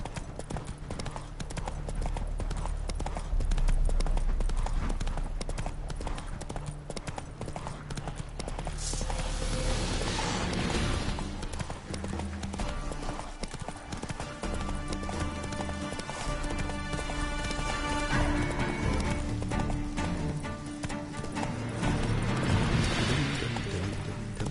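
Roach, a horse in The Witcher 3, trots with a steady rhythmic clip-clop of hooves, close and continuous, alongside game ambience and faint background sounds.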